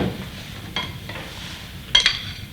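Mashed purée being stirred in a salad bowl in a chef's kitchen, heard as soft scraping strokes with a couple of brief clinks against the bowl, close and quiet with no voices.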